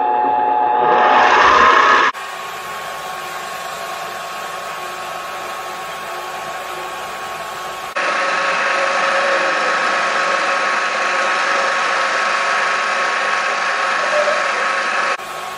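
A mini lathe turns a custom metal adapter, its steady motor whine with a brief rougher cutting burst at the start, then shifting pitch midway, continuous and close with no talk.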